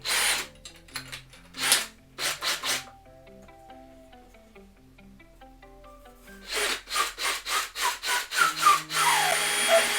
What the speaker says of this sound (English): You guys know I've got a power reamer here.